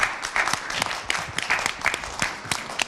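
A hall audience at a Hartford People's Budget meeting applauds Melissa McCaw, a steady wash of many hands clapping close and loud through the whole stretch, without speech.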